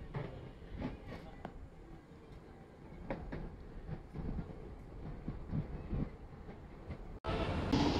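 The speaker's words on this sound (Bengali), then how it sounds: "আরেকটি ট্রেন দক্ষিণ থেকে উত্তরে যাচ্ছে লালমনিরহাট কুড়িগ্রামের দিকে" A train crosses the Teesta rail bridge, heading toward Lalmonirhat and Kurigram, with a low distant rumble and irregular wheel knocks, followed by a sudden loud windy surge at the end.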